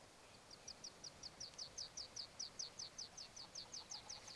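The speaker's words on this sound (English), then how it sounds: "Birdsong, meadow pipits, grouse, and a cuckoo." Faint morning birdsong on a calm Perthshire moor with meadow pipits, grouse and a cuckoo, carried by a thin, high, rapidly repeated series of about twenty chirping notes over quiet background hiss.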